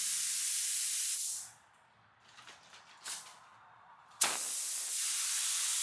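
Spray paint hissing onto a truck gas tank in steady bursts, a long spray, a pause with faint rattling and handling, then another sharp onset into continuous hiss, close up.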